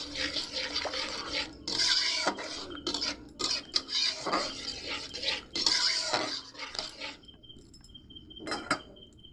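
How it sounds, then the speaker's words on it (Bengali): Cashew and poppy seed paste being stirred into a pot of fish curry, continuous close scraping and rubbing of a utensil against the pot with brief clinks, then a quieter moment before one last scrape. "দিয়ে ভালো করে কিন্তু নেড়ে নেব"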